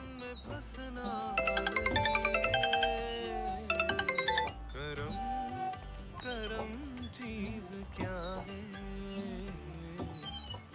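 A mobile phone rings with bright repeated electronic ringtone bursts, two clear ringing spells over a music score with a dramatic thriller feel, and no one talks over it.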